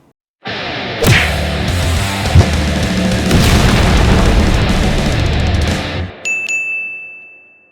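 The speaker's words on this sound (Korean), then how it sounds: "총성!" Gunshot sound effect, a loud booming blast with sharp ringing metallic transients that sustains for several seconds before cutting off, followed by a thin high electronic tone.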